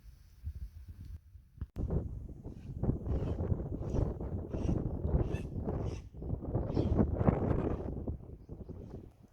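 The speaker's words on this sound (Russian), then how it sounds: "Сегодня пасмурно, ветер дует." Gusty wind on an overcast day buffets a microphone outdoors near Lake Baikal, rumbling and roaring in uneven waves close up, with a short pause partway through.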